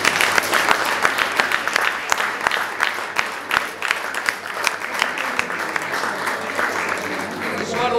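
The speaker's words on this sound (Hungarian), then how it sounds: "de kérem, hogy tapsoljuk meg őt." Applause from an audience at a hospital retirees' reunion, a dense, steady patter of many hands clapping through the whole stretch, fairly loud and close, with no talk over it.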